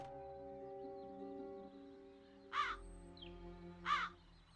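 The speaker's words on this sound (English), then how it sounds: "Something's wrong with those crows." Two crow caws ring out a second and a half apart, fairly close and loud over a low droning background, in the video game The Dark Eye: Chains of Satinav.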